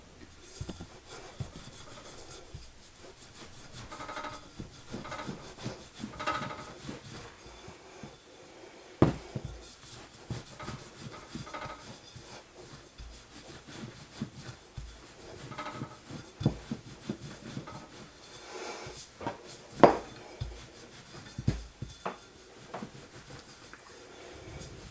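Kolache dough for pecan pie kolaches being rolled out on a floured surface, with soft irregular rubbing strokes and occasional thumps of the pin, close and fairly quiet, steady throughout with no talking.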